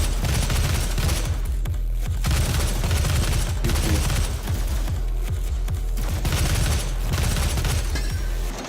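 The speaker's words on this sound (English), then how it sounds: "Explosion." Explosions and gunfire from the video game DOOM (2016) form loud, rapid bursts of shots with booming blasts, broken by short gaps, and no talk over them.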